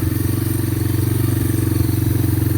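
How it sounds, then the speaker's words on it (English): A three-wheeler ATV engine drones steadily while someone rides it outdoors, a close, loud and rough pulsing rumble with no talk over it. "It's kind of rough riding on a three-wheeler"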